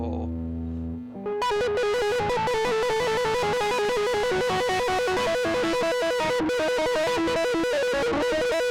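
A heavily distorted electric guitar plays a repeating riff with sustained, saturated notes after a brief cleaner intro, loud and close.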